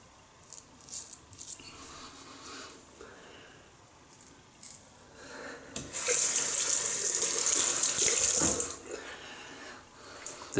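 A tap runs into a sink in a steady rush for a few seconds as a Merkur Futur razor is rinsed, with quiet clinks and scraping before and after.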